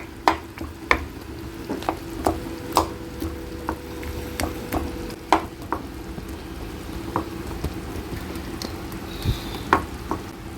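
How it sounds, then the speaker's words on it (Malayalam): Tomatoes for a chicken karahi are pressed and mashed in a hot pan, with a steady low sizzle broken by a run of sharp, irregular spoon knocks and squelches against the metal, close and fairly loud, with no voices. "തക്കാളി ഇതുപോലെ ഒന്ന് ഉടച്ചു കൊടുക്കുകയും ചെയ്യാം"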